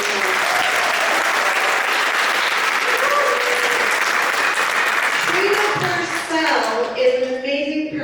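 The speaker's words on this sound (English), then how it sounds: "Please give them a round of applause." Audience applause fills an auditorium after a youth wearable arts show in Ketchikan: a dense, steady wash of clapping from a large crowd, loud throughout and tapering slightly near the end with some faint voices.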